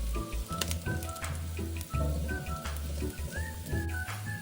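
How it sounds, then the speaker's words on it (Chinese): Garlic cloves crackle and sizzle in two spoonfuls of hot cooking oil in a wok over medium heat, with dense popping spatters throughout. "锅里倒入2大匙食用油，接着将备好的蒜瓣倒入爆香"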